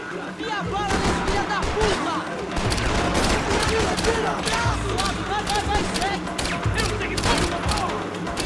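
Rapid volleys of pistol fire crackle through a Max Payne 3 gunfight, shots landing in quick irregular bursts with thuds and impacts, loud and close throughout, while a voice talks over the action.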